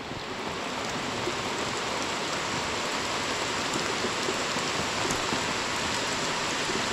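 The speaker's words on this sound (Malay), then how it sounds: "Hujan lebat sahabat." Heavy rain pours down steadily in a dense, continuous hiss with no pauses, close and loud throughout.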